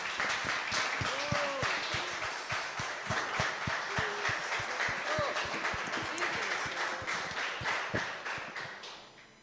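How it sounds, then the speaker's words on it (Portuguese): A church congregation claps together during a family worship service, a steady stream of hand claps running the whole time with a voice speaking over it. "Vamos aplaudir o Senhor Jesus"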